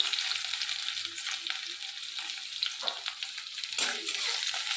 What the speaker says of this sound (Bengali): পেঁয়াজটাকে ভালো করে লাল লাল করে ভেজে নেব